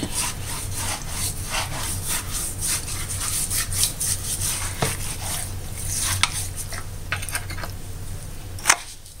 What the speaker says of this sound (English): I'm going to put it underneath the skin like that, and I rub it in.